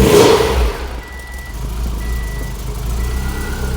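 Built Subaru STI engine catching and settling into a steady, rumbling idle close by, with rhythmic reversing beeps repeating in the background.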